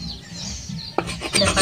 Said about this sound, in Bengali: কাটারি করে এরকম করে ঘষে ঘষে ছাড়িয়ে নেব।